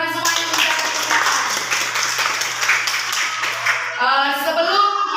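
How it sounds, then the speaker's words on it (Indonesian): A classroom of students clapping their hands together, brisk, dense rapid claps for about four seconds, then a voice speaks as the clapping stops. "tepuk tangan dulu karena semuanya menjaga kesehatan"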